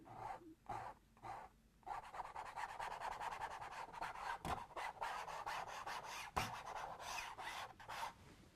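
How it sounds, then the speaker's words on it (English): A painting knife scrapes oil paint off a canvas in long, close, rasping strokes with a steady gritty rubbing texture, punctuated by a couple of sharper knocks. "Just scraping a little color off."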